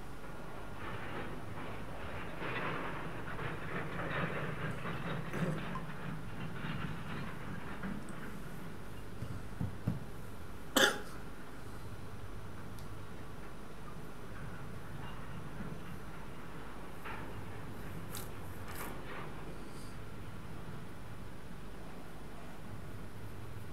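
A train running in a train-driving video game, with a steady low rumble and rolling rail noise throughout, one sharp metallic clank near the middle and a few faint higher squeaks later.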